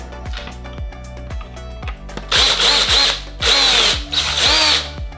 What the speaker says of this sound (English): And drill out our hole.